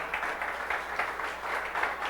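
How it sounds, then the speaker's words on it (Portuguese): A church congregation applauds at a Sunday service, a dense, steady wash of many hands clapping together that swells slightly in waves, fairly distant and reverberant, with no voices standing out. "Desocupe as tuas mãos e vamos aplaudir essa palavra."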